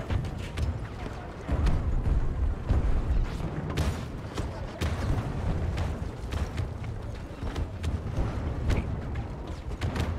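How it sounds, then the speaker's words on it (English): Explosions and battle noise in the video game Battlefield 2042 form a dense, steady wash of booms and rumbling gunfire, with several sharper blasts standing out over a constant low roar. "Explosions."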